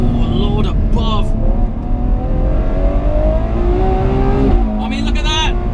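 A Ferrari 812 Superfast V12 driven hard around the Fiorano test track, its engine revving loudly with rising and falling pitch through gear changes, close and continuous under someone talking.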